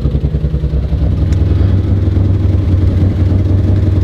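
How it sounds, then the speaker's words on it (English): Mitsubishi 3000GT VR4 engine idling close up with a massive exhaust leak, a steady low rumbling drone with a rapid ticking, puffing pulse running throughout. "But it looks like it's idling okay. There's a massive exhaust leak somewhere down there."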